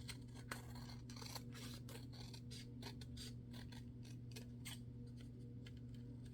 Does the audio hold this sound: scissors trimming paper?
yes